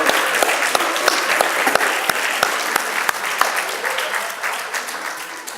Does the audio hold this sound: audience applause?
yes